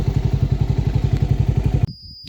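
Motorcycle engine rolling slowly toward the Chetvertynsky palace, a steady pulsing low thump of the engine for nearly two seconds, then cutting out abruptly, leaving a faint high tone and quiet.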